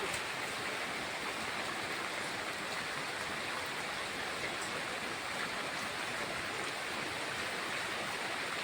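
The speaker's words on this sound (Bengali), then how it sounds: "দেখো বন্ধুরা, বাইরে প্রচণ্ড বৃষ্টি হচ্ছে।" Heavy rain falls outside as a dense, even, continuous hiss that stays faint and steady throughout, with no voices over it.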